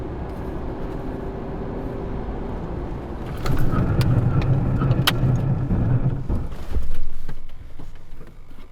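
A Ford car running on CNG, engine and road roaring at about 80-90 km/h, then a louder surge with low rumble and tire noise as it brakes sharply, with no talking.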